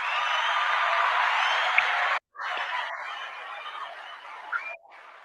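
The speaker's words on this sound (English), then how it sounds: "Let's give him a round of applause." Crowd applause for a rapper, a broad steady wash of clapping that cuts off abruptly midway, then resumes more loosely with a few cheers before fading near the end.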